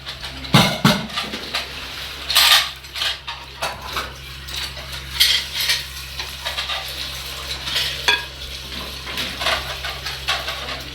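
Chickpeas go into a dish with a spoon in a home kitchen, a series of close metallic clinks and scrapes against the bowl with short soft plops between them.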